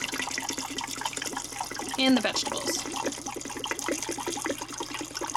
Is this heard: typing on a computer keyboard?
no